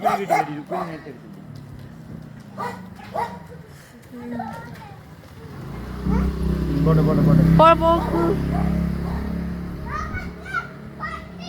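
A dog barking outdoors at night during a bicycle ride, with a few short barks mixed among children's voices and ongoing talk, and a low vehicle rumble joining later.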